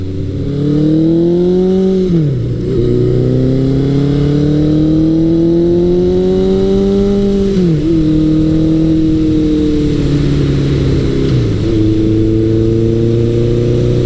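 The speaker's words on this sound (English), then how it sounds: "It's a little bit cool yet, so I'm letting the bike warm up." A 1983 Suzuki GS1100L motorcycle with a stainless Delkevic exhaust idles loud and close while warming up on a cool day, rising in pitch as it's revved up, then settling back down several times with a throaty exhaust note.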